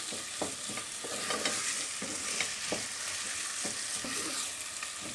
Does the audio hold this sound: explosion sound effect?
no